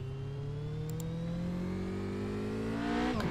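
A Radical SR8 race car engine at Silverstone, revving up steadily with a rising pitch before a sharp climb at the end. It is loud and close, with no talk over it.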